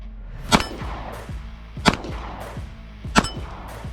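Three sharp pistol shots from a Norsso pistol, evenly spaced about 1.3 seconds apart, loud and close with a brief ringing decay after each report, compared against ported and compensated muzzles.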